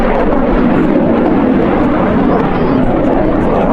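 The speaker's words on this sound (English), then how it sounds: "F-16s." F-16 fighter jets roar overhead, a loud, steady, broadband rumble that fills the whole moment without letup, heard outdoors near a zoo.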